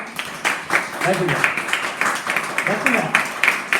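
A church congregation at a Sunday worship service claps hands in a steady rhythmic beat, loud and close, while a voice speaks and sings over the clapping.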